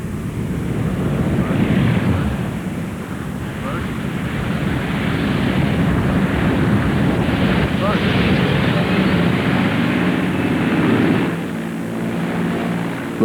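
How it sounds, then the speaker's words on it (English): A dangerously overloaded Caribou propeller aircraft comes in to land with failed flaps, its loud, steady engine and propeller drone mixed with wind rumble throughout. "As the dangerously overloaded Caribou comes into land"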